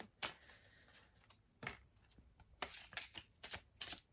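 A deck of Lenormand cards is shuffled by hand in bursts of riffling and flicking, several short loud runs separated by pauses, close up with no voices.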